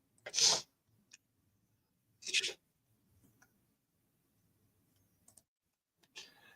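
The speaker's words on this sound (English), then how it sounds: "Somebody is sneezing there." Two sharp sneezes close by, about two seconds apart, followed by faint clicks and small rustles in an otherwise quiet room.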